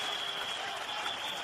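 Olympic Stadium crowd applauding the Greek team at a 1980 European Championship football match against Czechoslovakia, a steady, dense wash of clapping that fills the whole moment without a break.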